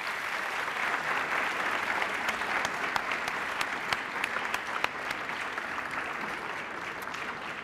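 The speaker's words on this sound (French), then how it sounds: "On peut les applaudir, merci." Sustained applause from an audience at a school awards ceremony, dense and steady across the whole span with a few sharper claps standing out near the front.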